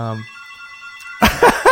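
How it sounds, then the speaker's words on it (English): A telephone rings with a bright electronic tone at the start, then fades into quiet before voices begin talking over it. "yeah, there's the phone"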